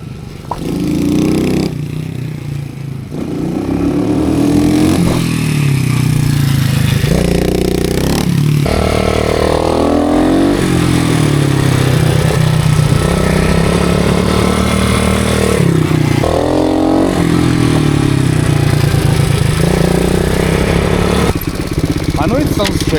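A motorcycle on a beginner training course revs under full throttle along the straight, then slows for braking and speeds up again, its engine loud and close the whole time.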